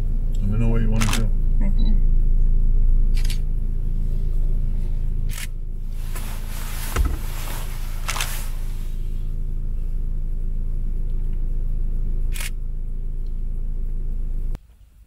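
A car engine idles steadily with a low rumble throughout, punctuated by a few sharp clicks and rustles nearby, until it cuts off at the end.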